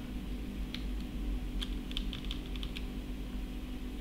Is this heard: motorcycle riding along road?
no